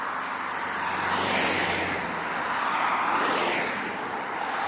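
Ford Transit van and a Porsche passing by on Station Road at the Skeoch roundabout in Stirling, Scotland, a broad steady road whoosh swelling and fading, with no talk over it.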